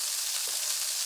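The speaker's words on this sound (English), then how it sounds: "We're going to saute the escarole for about 2 to 3 minutes or until wilted." Escarole with tomatoes and beans sautés in a pan, a steady close hiss and sizzle that runs without a break and has no voices over it.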